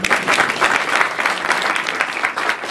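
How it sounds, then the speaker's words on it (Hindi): Audience applause at a literary award ceremony during a global literary festival, a steady, close wash of clapping from many hands that continues throughout without pause. "करतल ध्वनि से उनका अभिनंदन करिए।"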